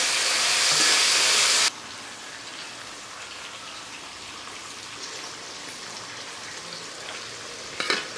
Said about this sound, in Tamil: 100 கிராம் சின்ன வெங்காயம், ஒரு 20 பல்லு பூண்டு, போட்டு வதக்கிக்கிடுவோம்.